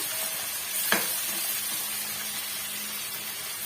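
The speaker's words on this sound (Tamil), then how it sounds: "இந்த வெங்காயம் வந்து முழுமையாக வதங்கி வரணுங்க அது வரைக்கும் நம்ம வதக்கி எடுத்துக்கலாம்" Onions and curry leaves sauté in a hot pan, giving a steady soft sizzle and hiss throughout, with one brief scrape or clink near the start.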